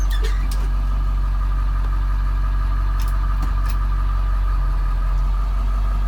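A car engine idles steadily with a low, constant rumble as the vehicle gets ready to pull away on a cool 61-degree day, with a few faint clicks and no talking.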